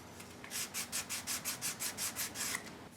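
Rhythmic back-and-forth rubbing of 120-grit sandpaper along the edge of a ceramic-sharpened tool, about ten even strokes in quick succession, close and fairly quiet with no voices.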